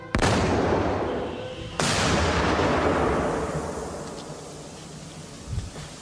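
A loud explosive charge fired against the door of an armored car, a sharp blast followed by a long decaying rumble, then a second heavy blast about two seconds later that slowly fades.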